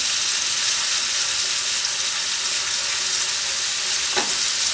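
Sweet potato banana pancakes fry in a hot pan with a steady, loud, broadband sizzle that holds evenly throughout, with a single brief clink near the end and no talking.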